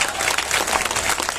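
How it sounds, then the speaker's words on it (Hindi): An audience at a poetry gathering at a college in Sitamarhi claps loudly and steadily for the whole brief stretch, a dense wash of applause with no voice above it. "तालियां कम है सीतामढ़ी के लोग"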